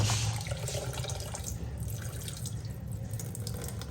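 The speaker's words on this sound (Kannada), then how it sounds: "ಹಿಸ್ಕಿದ ಅವರೆಕಾಳು ಎರಡನ್ನು ನೀರು ಹಾಕ್ಬಿಟ್ಟು ನೀಟಾಗಿ ತೊಳ್ಕೊಂಡ್ಬಿಡೋಣ" Toor dal and field beans being washed in water, heard as a continuous close rush of running water with splashing and sloshing, loud and steady throughout.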